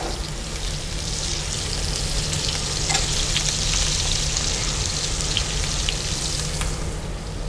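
Steaks sear in a very hot pan with a loud, dense, continuous sizzle heard up close, unbroken for the whole stretch, with no voices over it.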